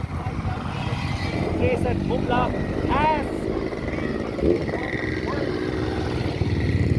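Motorcycles rumble through a bike rally held in memory of the 1962 war near Tawang, with continuous engine noise, a few horn-like tones and a crowd murmuring and talking underneath.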